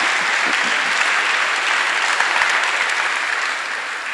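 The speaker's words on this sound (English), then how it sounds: "please give the future leaders an extremely loud round of applause." Loud, dense applause from a large audience at a Future Leaders induction and closing ceremony, a continuous even roar of clapping that holds steady throughout and dips slightly at the end.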